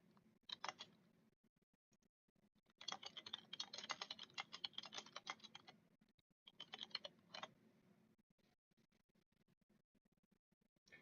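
Keys clatter faintly on a computer keyboard in quick bursts of typing, separated by short quiet pauses, with no voices.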